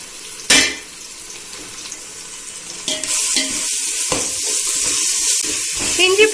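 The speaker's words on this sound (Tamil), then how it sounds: "இஞ்சி பூண்டு பச்சை வாசம் போற அளவுக்கு வதக்கி எடுத்துக்கணும்." Ginger garlic paste sizzles in a pan with onions and curry leaves while a spoon stirs it, with sharp clanks against the metal and a steady hiss that swells and fades. A voice speaks faintly in the background.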